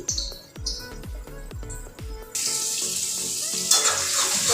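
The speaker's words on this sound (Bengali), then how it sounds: "একটু সময় নিয়ে মশলাটাকে ভেজে নিই" Spice masala for a tomato-based papda fish curry fries in a pan, first a few metallic clinks and knocks, then a steady bright sizzle that swells louder toward the end, with no voices.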